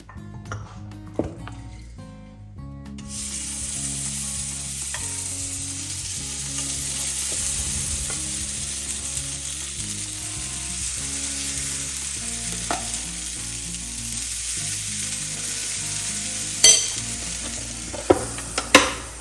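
Batter of oats and kefir sizzles and hisses steadily in a lightly greased waffle iron for low-carb oat waffles, a continuous frying sound broken by a few sharp clicks and clunks near the end, with no talk.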